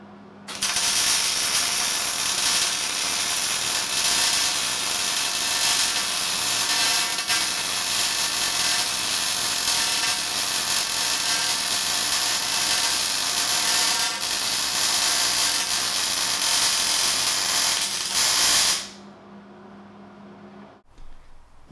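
A welder lays a bead on a Jeep XJ spare tire carrier, giving a loud, continuous crackling buzz up close that runs unbroken for nearly twenty seconds before cutting off into near quiet.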